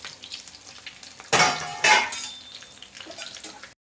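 Mutton with cloves, cinnamon and cardamom frying in a pan for Mangalore-style pulimunchi, a quiet sizzle broken by two loud bursts of stirring and scraping against the pan, with a clink at the end.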